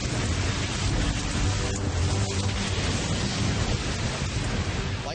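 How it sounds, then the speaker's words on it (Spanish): A thunderstorm with a lightning strike, heard as a dense, steady roar of heavy rain and rumbling thunder that fills the whole clip with no voices. "Pero se produjo una tormenta y cayó un rayo."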